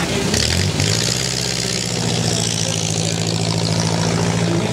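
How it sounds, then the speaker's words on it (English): A 1914 Overland Model 38 vintage car engine runs steadily at a hill climb event, a loud, continuous low rumble with a brief rise at the start and constant outdoor noise throughout. "Margaret with William Fraser and Harry driving the Overland to Model 38."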